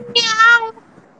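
A man imitates a cat with two loud, strained meows in quick succession, each a nasal, harmonic-rich vocal wail lasting about half a second, close to the mic and then trailing off into quiet room tone.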